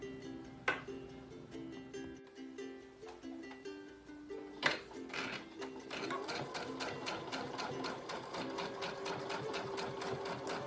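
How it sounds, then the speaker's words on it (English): Sewing machine stitching the liner of a cloth face mask, a rapid mechanical whir of needle strokes that starts and stops in short bursts, then runs steadily in a close, continuous stitching stretch. "now that we've stitched the liner down on either side and we have our pleats in place"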